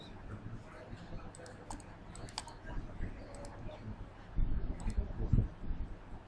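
Soft, scattered computer mouse clicks come from someone working in ANSYS Mechanical APDL, quiet and irregular over a low room hum, with a few louder taps and bumps toward the end.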